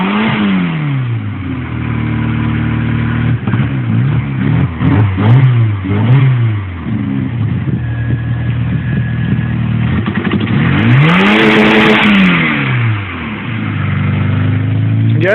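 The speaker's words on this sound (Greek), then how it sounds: "Έλα, δώσε μια γκαζιά να ακούσουμε κόφτη." A Seat Ibiza engine revs hard again and again against the rev limiter, with rising and falling bursts that hold at the cutoff. The sound is loud and close throughout.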